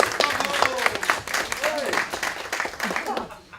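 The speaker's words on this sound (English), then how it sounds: "on the count of 3, you practice your spontaneous, rapturous applause" An audience in a village hall bursts into enthusiastic applause and cheering on cue, a dense burst of clapping with whoops and shouted voices mixed in, gradually tapering off.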